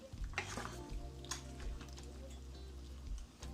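A spoon stirring a pot of Jamaican stewed peas, with soft knocks and scrapes against the pot at a slow, regular pace, quiet and close over a low hum.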